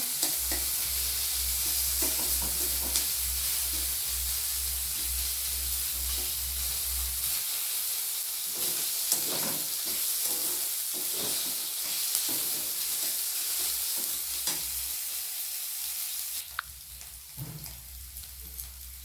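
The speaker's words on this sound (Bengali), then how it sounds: "এক চামচ আদা রসুন বাটা, খুব ভালো করে এগুলোকে আমি ভেজে নেব" Ginger-garlic paste and onion frying in a pan give a steady, loud sizzle with scraping stirs throughout, a low hum under the first part, and the hiss easing off near the end.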